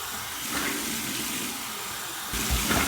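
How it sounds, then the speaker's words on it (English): Cold tap water runs steadily for a rinse after a safety razor shave, a close, continuous splashing rush that swells louder near the end as the stream is disturbed, with no talk over it. "Here's my cold water rinse."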